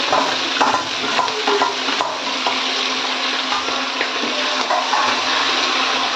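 Green chillies dropped into hot oil in a pan, giving a steady loud sizzle and crackle throughout with faint stirring scrapes.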